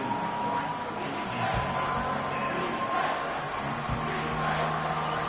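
A football stadium crowd makes a steady, dense roar as fans try to rally the defense for a red zone stop. The noise is distant and unbroken, with a few low thumps.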